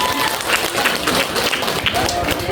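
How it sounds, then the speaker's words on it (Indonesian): An audience at a junior high school graduation ceremony claps for students who have come forward, a dense, continuous patter of many hands that stays even and loud throughout. "tepuk tangan dulu untuk yang sudah maju"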